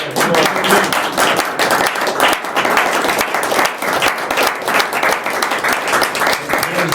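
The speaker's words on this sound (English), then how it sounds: "please give him a round of applause." A round of applause from the audience at an awards ceremony, loud and close, a sustained, dense clatter of many hands clapping that holds steady throughout.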